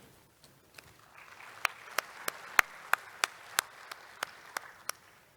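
Scattered audience applause at a display-industry conference opening ceremony, a thin patter under a run of about a dozen sharp, evenly spaced individual claps that ring out louder than the rest.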